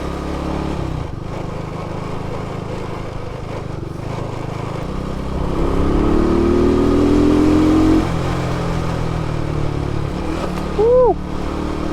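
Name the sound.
Yamaha LC135 motorcycle engine running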